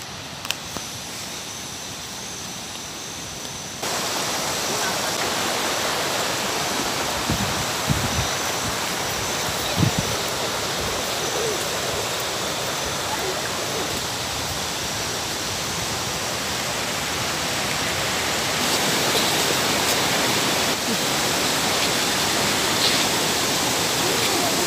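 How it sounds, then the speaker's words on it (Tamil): Steady, loud rushing of flowing water from a forest stream, a constant broadband roar close by, with a few faint knocks underneath and no voices. "அந்த தண்ணியினுடைய அந்த இறைச்சல் சவுண்ட் அப்படியே அழகாக இருக்கும் இல்லையா கேட்குறதுக்கு"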